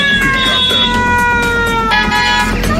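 A cat lets out a loud, drawn-out yowling meow that wavers in pitch, close and unbroken for a few seconds over a low background rumble.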